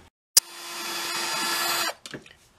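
A power drill bores holes through a metal coffee can being made into a guitar, with one sharp bit-contact click and then a steady, close whine lasting about a second and a half before cutting off, followed by brief clatter.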